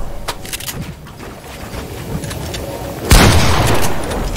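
Video game gunfire in a duo squad shooter: scattered faint shots, then one loud sharp blast followed by a sustained burst of heavy fire near the end, with players talking quietly underneath.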